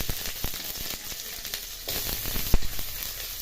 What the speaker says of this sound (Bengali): এবার দিয়ে দেবো পেঁয়াজ কুচি